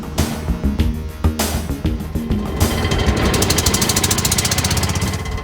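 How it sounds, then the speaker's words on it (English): A 1960 Messerschmitt's single-cylinder two-stroke 191cc engine sputters with uneven pops, then settles into a rapid, steady buzzing putter, loud and close, with no voices. "It's a single-cylinder, two-stroke engine, 191cc, 4-speed, and you reverse the engine because it's a two-stroke to back up"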